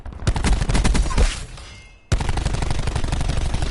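Rapid automatic gunfire rattles in a video game shooter, one long burst of tightly spaced shots that tails off into a short gap before another sustained burst starts up, loud and close with no talk.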